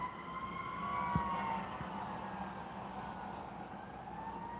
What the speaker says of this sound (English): That's the fire department. I hear another, so I'm assuming an ambulance is not far behind.